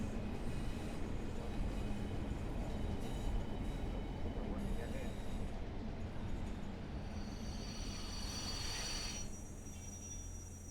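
Simulated Class 142 Pacer diesel train running between Radyr and Cardiff Central, a continuous rolling rumble with a high wheel squeal rising near the end, moderately loud and steady.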